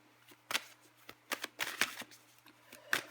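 Tarot cards riffle and slide in a quiet indoor shuffle, several short bursts of papery flicking spaced irregularly, close up under a faint low hum and with no speech.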